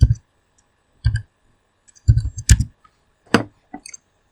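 Computer mouse clicks while setting up a disk volume in Windows, about six sharp, close clicks spaced unevenly over a few seconds, in quiet with no talk.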